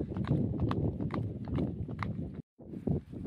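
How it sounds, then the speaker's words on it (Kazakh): Cows trotting while being moved to winter quarters, with a steady patter of many hooves on the ground close by, broken by one brief pause. "Жүгірген желіп барады сиырлар."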